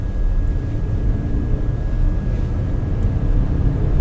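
Inside a 2019 BMW X4 30i in Sport Plus mode, the engine and road noise form a constant loud low roar with a faint steady whine above it, close and without talk.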